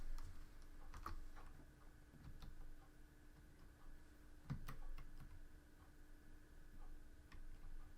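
Computer keyboard clicks from someone playing King's Quest on PC: scattered sharp taps and short bursts, fairly quiet, over a steady low hum with no talk.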